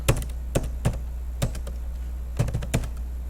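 Keys on a computer keyboard typed in a short sequence, about six distinct clicky taps spaced irregularly over a few seconds, close and fairly clear against a low steady hum.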